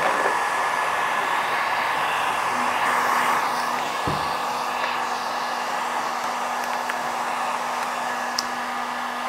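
Steady blowing roar of a heat gun warming Surfex vinyl interior film on a round table top, continuous and fairly close, with a faint hum underneath and no talk.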